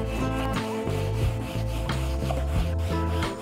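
A cloth wipes over blackened, torch-burnt and nylon-brushed shou sugi ban wood, producing close, rhythmic rubbing strokes with soft scraping texture, repeated steadily with no voices.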